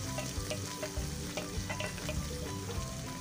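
Chopped onions fry in oil with sugar and cumin seeds, giving a steady close sizzle with scattered crackles and stirring clicks throughout, no voices.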